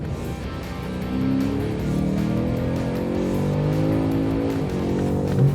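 A BMW M5 CS lapping the Körfez race track, its engine droning and rising through gears in a steady onboard roar, with tire squeal on corners and a continuous close, loud motor sound.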